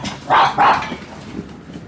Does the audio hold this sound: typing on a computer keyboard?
no